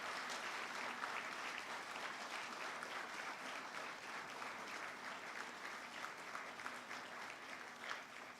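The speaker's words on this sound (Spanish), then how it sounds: "Un aplauso especial para ustedes, para mi equipo de trabajo y para los defensores públicos que se han hecho presentes." Audience applause at a public justice panel in Ecuador, a continuous dense wash of clapping from a crowd, steady and fairly distant for the whole stretch.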